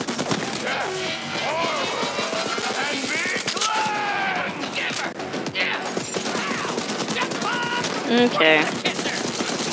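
Video game gunfire in Borderlands 3, rapid bursts of shots and chaotic combat effects mixed with someone talking over the action.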